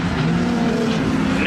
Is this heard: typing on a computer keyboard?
no